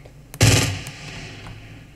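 A single loud gunshot bursts out in Fortnite, close and sharp, then echoes away into a fading tail, with a faint softer shot at the very start.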